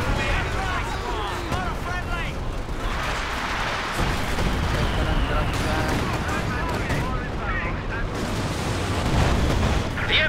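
Mortar artillery fire in Company of Heroes 2: a continuous barrage of booming blasts and crackling gunfire, loud and dense throughout, with voices talking over the battle.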